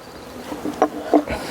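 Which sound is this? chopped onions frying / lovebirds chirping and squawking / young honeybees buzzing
young honeybees buzzing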